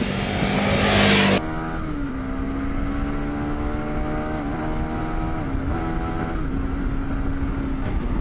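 A motorcycle with a quick shifter pulls hard through the gears, its engine note climbing and then briefly dipping at each rapid upshift. The sound is steady and fairly close, with no voices.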